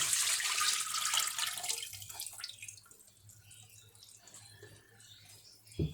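Broth is poured into a pot of beef paya, a trotter stew, with a loud liquid rush and splash that fades to a softer trickle.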